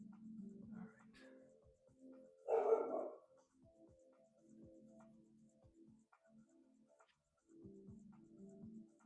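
A dog barks once or twice at moderate distance, standing out briefly against faint background noise and quiet household sounds.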